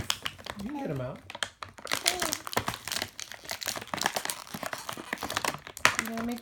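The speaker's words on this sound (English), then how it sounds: "You're gonna make lots of crinkly noises just like the videos." Toy packaging crinkles and rustles almost continuously and close up as toys are opened, with a voice heard briefly over the noise.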